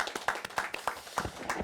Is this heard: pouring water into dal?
no